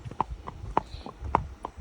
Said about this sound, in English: Is that horses?